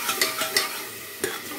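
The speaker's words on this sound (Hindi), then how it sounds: "ये पिसा हुआ मसाला, ये डाल के इसको अच्छे से हम चला लेंगे" Ground spice masala fries in a pan while being stirred, a constant sizzle broken by a few quick, close scraping strokes of the spoon.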